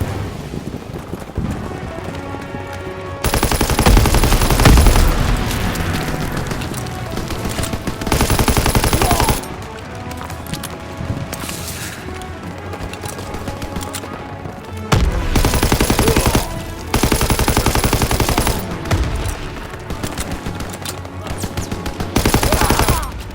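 Loud wartime battle in Call of Duty: WWII, with heavy AA gun and machine gun fire pounding in long sustained stretches separated by quieter moments of rumble and distant shots.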